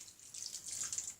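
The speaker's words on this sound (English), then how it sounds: "Now I'm going to add a little bit of water to this from the kettle." Water from a kettle is poured in a soft, steady hiss into a pan of beef curry, faint and close, with no voices.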